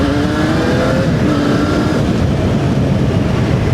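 A Yamaha XJ6 motorcycle engine runs loud and steady at high revs, a continuous close roar with a sustained whining tone, without speech.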